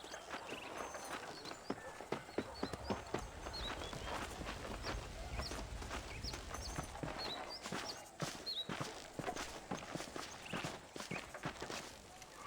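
Horse hooves clip-clop at a walk in Red Dead Redemption, a steady close rhythm of hoofbeats over a quiet outdoor ambience with faint birdsong.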